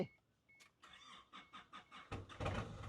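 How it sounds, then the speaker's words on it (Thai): The engine of a 2004 Isuzu D-Max pickup is started close by: a short whirring crank, a series of rhythmic cranking pulses, then the engine catches and settles into a steadier running rumble. "ผมสตาร์ทจึงเดียวติดละครับ"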